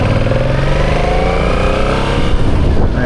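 A Yamaha MT-07 motorcycle engine drones steadily and loudly while riding in first gear at low speed, a continuous close rumble with no talking.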